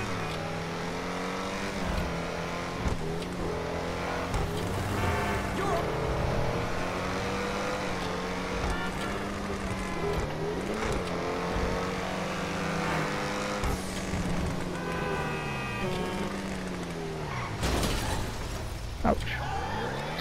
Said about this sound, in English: You can hear the turbos pulling up.